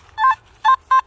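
A metal detector sounds three short, clear electronic tones over a shell casing on a trail near 1930s bunkhouses, each beep close and distinct with brief gaps between.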